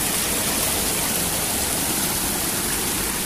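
Water flows steadily into a village pond with a continuous, even rushing wash that holds at a constant level throughout, with no voices over it.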